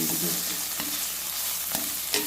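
Ghee and coconut oil sizzle steadily in a pan while ingredients for parippu payasam fry, with a few soft scraping stirs breaking through the constant hiss, close and unaccompanied by speech.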